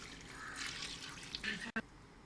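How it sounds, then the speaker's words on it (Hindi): Water poured from a jug into a cooking pot while making bone curry, a steady splashing trickle that runs on and then briefly stops near the end. "तीसरा जग भी मैंने इसमें पानी का डाल दिया।"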